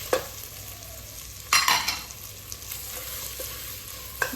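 Rice and boiled chickpeas fry in a pan, giving a low steady sizzle with a few louder scraping stirs, close by and with no voices.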